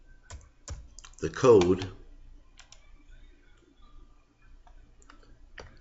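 Quick clicks of typing on a computer keyboard, a few sharp taps, then someone speaking briefly over them, with faint scattered keystrokes continuing afterward.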